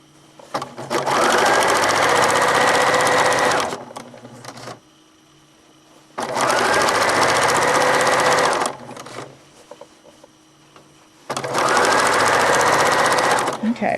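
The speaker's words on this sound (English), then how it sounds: "Tuck it under the presser foot, back stitch to the edge of the quilt, and then stitch forward" Quilt binding runs under a sewing machine's presser foot in three loud, sustained bursts of fast stitching, each a few seconds long and separated by quiet pauses.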